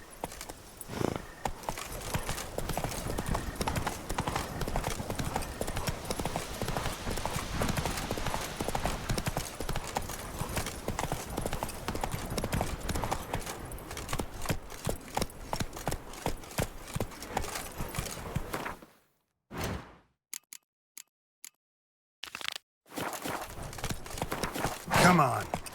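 Horse galloping in The Witcher 3, a fast, dense run of hoofbeats that continues for most of the stretch, then drops to near silence before a few scattered hoof sounds resume at the end.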